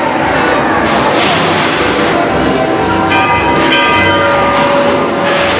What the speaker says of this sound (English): Two bells means we're about to start going.